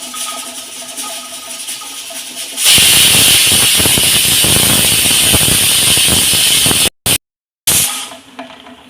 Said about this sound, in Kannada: ಸೊ ಈಗ ಅದು ವಿಸಿಲ್ ಬರಲಿಕ್ಕೆ ಕಾಯ್ತಾ ಇದ್ದೇನೆ.